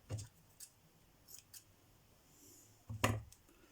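Scissors snip through a sheet of material, likely paper, during a watercolour-ink craft session; a few quiet, separate cuts are followed by a sharper, louder snip near the end, with no talking.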